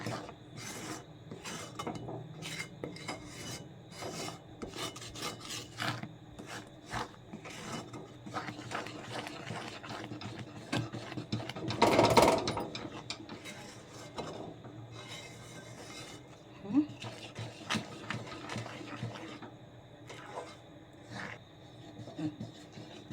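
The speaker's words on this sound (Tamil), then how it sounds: "எல்லா கடலமாவையும் இதில் சேர்த்துட்டு நல்லா மிக்ஸ் பண்ணிக்கலாம்" A sweet mixture made with gram flour is stirred in a pan, giving faint, uneven scraping and rubbing strokes with a short louder burst midway and no talk.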